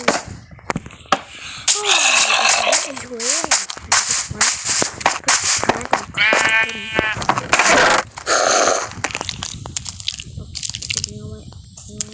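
Sheep in the video game Minecraft give several short, nasal bleats among game sounds, with sharp clicks and hits and a voice talking over the top.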